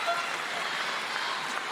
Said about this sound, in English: You can hear the crowd gasp after Timoboll hits a big shot that comes back.